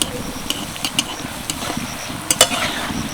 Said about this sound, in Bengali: এগুলোকে বেশ লাল লাল করে ভেজে নেব